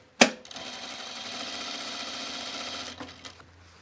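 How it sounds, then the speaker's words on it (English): A sewing machine runs a stay stitch about a quarter inch from the fabric edge, starting with a sharp click, then a steady, loud, close mechanical whir for nearly three seconds before slowing and stopping with a few clacks. "we're going to put a stay stitch. I'm gonna put one about 1/4 of an inch away from the edge"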